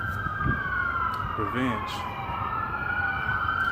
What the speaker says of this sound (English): you got these sirens in the background